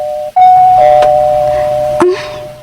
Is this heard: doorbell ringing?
yes